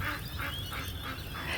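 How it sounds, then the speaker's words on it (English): Ducks in a park with sprinklers running give a series of about four honking quacks in a steady rhythm, fairly close and clear over a low background hum. "Can you hear the ducks in the background?"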